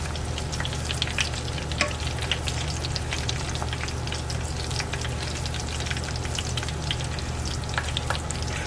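Homemade extra-crispy onion rings deep frying in a pot of oil, a dense steady sizzle with fine crackling pops, close and continuous with no talk.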